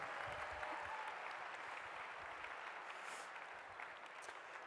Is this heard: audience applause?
yes